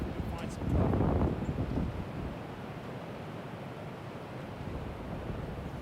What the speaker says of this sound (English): It's April, we're in the hills of Iowa, so it's windy.